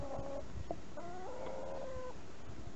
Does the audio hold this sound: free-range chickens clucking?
yes